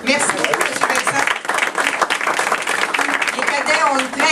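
Applause from a press-conference audience welcoming a cadets representative at the 175th-anniversary event for the city of Mercier, a dense, steady clatter of hands lasting the whole stretch with voices talking over it.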